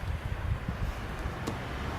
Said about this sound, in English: A little bit windy, not too windy. Very light wind.